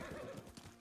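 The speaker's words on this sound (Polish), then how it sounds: "O, konik, no konik, Erka." A horse in the video game Ghost of Tsushima whinnies and neighs over a steady background, with faint hoof clip-clop, all in under a second.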